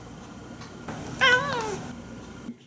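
A cat on a television program about cats gives a single drawn-out meow, moderately faint against a low steady background hum.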